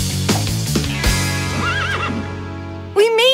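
A cartoon horse gives a loud, wavering whinny, then a second, higher neigh near the end, over a steady musical backdrop.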